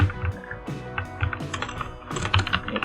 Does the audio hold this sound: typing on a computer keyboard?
yes